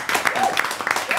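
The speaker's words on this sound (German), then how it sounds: "Vielleicht mal eine Runde Applaus" Applause from a studio audience at a live music sing-along show, a brief dense wash of clapping with a few sharper claps standing out, mixed with faint voices.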